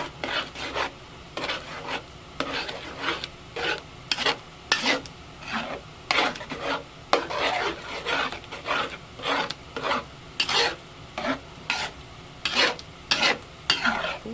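Spaghetti is tossed and stirred through sauce in a pan at home, a steady run of rhythmic scraping, rubbing strokes close up with a faint sizzle beneath, no voices.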